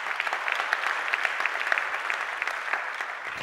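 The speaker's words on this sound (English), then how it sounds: "can we get a big round of applause for the program committee?" Applause from a keynote audience at an open source conference, honouring the program committee: a dense, steady patter of many hands clapping that holds throughout, with no speech.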